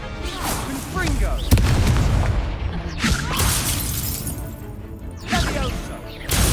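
Confringo fire-blast spells in Hogwarts Legacy combat: several loud booming explosions with shattering crashes and whooshes, spaced a second or two apart, over continuous battle noise.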